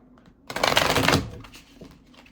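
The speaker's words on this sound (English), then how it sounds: "Actually, let's shuffle them." Oracle cards are shuffled close by in one brisk riffling burst lasting about a second, followed by fainter handling sounds.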